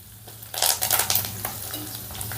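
Curry leaves and green chilli pieces crackling in hot oil in a pan while cooking okra masala curry, with a burst of sputtering and stirring scrapes near the start that settles into a steady, softer sizzle.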